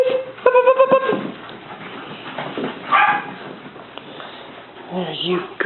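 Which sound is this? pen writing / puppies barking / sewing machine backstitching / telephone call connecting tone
puppies barking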